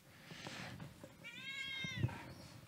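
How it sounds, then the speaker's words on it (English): Domestic cat meowing indoors, one drawn-out, wavering meow rising in the middle of the clip over soft room noise, with a brief thump near the end. "Bye, cat."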